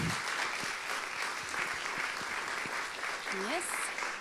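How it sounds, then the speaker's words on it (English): A festival talk audience gives a warm round of applause to welcome panel guests, steady dense clapping from a full room that holds its level throughout, with a faint whistle near the end. "So, please give a warm round of applause for Kivu Ruhorahoza, Mischa Hedinger, and Si"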